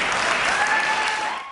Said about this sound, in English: During a raucous meeting, parents brought signs and openly cheered